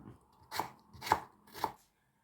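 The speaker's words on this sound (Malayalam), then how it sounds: "അപ്പോൾ ഇങ്ങനെ എല്ലാ തക്കാളിയും നമുക്ക് അരിഞ്ഞെടുക്കണം" Three evenly spaced knife chops cut through green tomatoes on a board, each a crisp close thud with a brief bright edge, then quiet.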